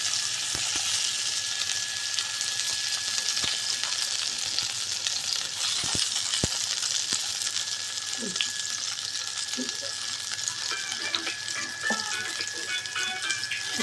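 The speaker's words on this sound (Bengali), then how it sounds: "এবার আমি তেলের মধ্যে এক একটা দিক করে বেগুনগুলো ছেড়ে দিচ্ছি" Brinjal slices fry in hot oil over a low gas flame with a steady, dense sizzle throughout, and a few faint clicks and taps of handling the pan near the end.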